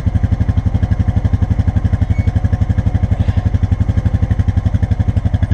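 1991 Honda TRX 250X quad engine being roll started, chugging in a fast, regular train of close, loud firing pulses that keeps an even rhythm throughout.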